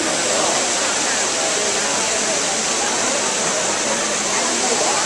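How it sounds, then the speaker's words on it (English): Water from the Trevi Fountain in Rome rushes and splashes in a dense, constant roar, loud and close with no breaks from start to end. "Trevi Fountain."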